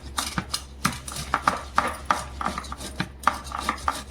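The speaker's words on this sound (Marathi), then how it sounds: "हे आता किसून घ्यायचे किसणीमध्ये" Boiled potatoes are grated on a hand grater in a kitchen, making rhythmic scraping strokes, roughly a dozen close rasping swipes in a loose, uneven cadence.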